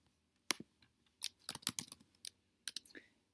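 Keys clatter on a computer keyboard as numbers are entered, in short bursts of quick taps with brief pauses between, close and clear in a quiet room.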